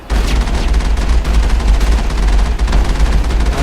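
Rapid, sustained gunfire from enemy infantry in the Xbox 360 game Mass Effect, a dense crackling barrage of shots running loud and continuous throughout with heavy low rumble underneath and no talk.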